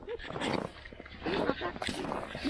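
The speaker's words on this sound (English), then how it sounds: "she's a really good dog" A young sled dog at a dog-sledding kennel in Fairbanks, Alaska, gives soft whimpers and short yips close by, mixed in with people talking over it.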